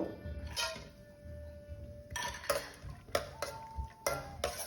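Cashews frying in a few spoonfuls of ghee for rava ladoo, with a light sizzle and a run of quick, sharp clicks and taps of a spoon stirring against the pan, close by.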